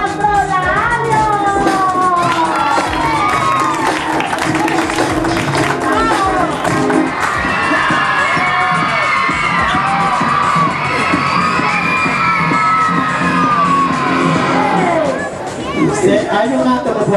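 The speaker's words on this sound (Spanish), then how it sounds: "un fuerte aplauso al profesor Androlario." A festival crowd cheers, whistles and shouts for a professor, with children's high voices prominent over dense babble and scattered clapping, loud and sustained throughout.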